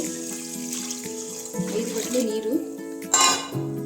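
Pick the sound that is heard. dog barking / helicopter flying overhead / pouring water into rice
pouring water into rice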